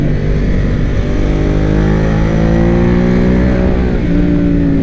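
A Ducati Monster 821 Testastretta motorcycle engine runs loud and close, a steady droning roar whose pitch rises slowly under throttle.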